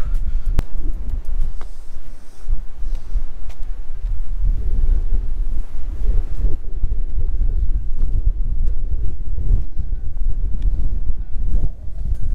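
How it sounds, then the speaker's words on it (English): Strong wind on a mountain hike above Ålesund, Norway buffets the microphone in a loud, steady roaring rumble with gusty surges throughout, no voices. "Very windy now, but very nice."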